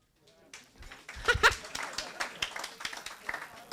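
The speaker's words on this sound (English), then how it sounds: "Round of applause if you guys watch politics on television" A comedy club audience responds with scattered applause, a sparse smattering of individual claps mixed with whoops and a few voices, starting from near silence and staying fairly quiet.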